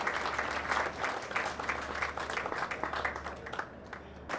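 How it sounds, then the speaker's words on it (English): Steady applause from an audience aboard a veterans benefit cruise, sustained dense clapping at moderate distance with a low engine hum beneath, fading slightly toward the end. "So one more round of applause for both Bill and Jim, and Mark for your coordinating, and Don also for you too."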